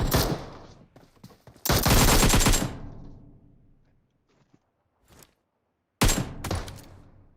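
AKM assault rifle fire in PUBG Mobile, with loud bursts of rapid automatic shots, a long volley near the start, then a brief pause and another sharp burst near the end, no talking.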